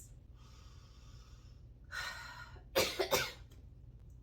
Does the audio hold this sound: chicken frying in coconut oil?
no